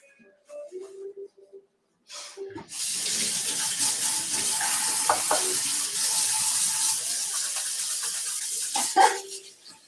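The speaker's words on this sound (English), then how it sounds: "Isn't running water wonderful? And soap." A kitchen tap runs steadily for about seven seconds while hands are washed after cutting onions. It gives a close, continuous splashing rush, with a few brief sounds before the water starts.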